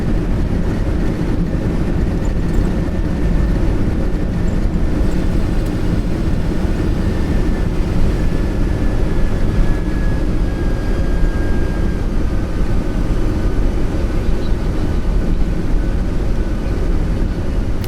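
Boeing 747-200 engines in reverse thrust during landing roll make a loud, steady broadband roar heard from inside the cockpit, with a faint tone slowly sliding downward.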